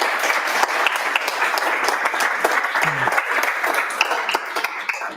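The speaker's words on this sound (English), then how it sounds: "another round of applause then for Nevin." Dense applause from an audience at a machine learning meetup talk fills the room, a continuous wash of many hands clapping, fading slightly at the end.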